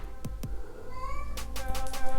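A cat meows insistently, a drawn-out rising call followed by a few shorter meows, close by, with a couple of soft knocks before it.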